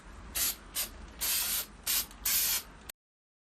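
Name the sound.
spray paint can spraying black paint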